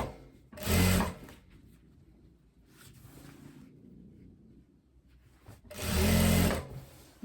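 Sewing machine stitching a seam joining a tailored blazer's lining, two close, loud bursts of rapid whirring stitching separated by quieter handling noise and faint pauses.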